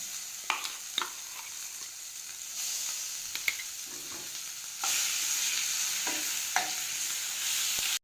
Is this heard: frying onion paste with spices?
yes